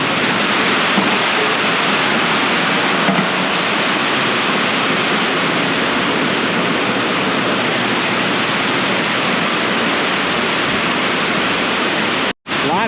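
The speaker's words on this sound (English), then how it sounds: "A lot of this water from this barnyard funnels right through and out." Rainwater rushes through and out of a barnyard in a loud, unbroken broadband roar, like heavy runoff or a close downpour, steady throughout with one brief dropout near the end.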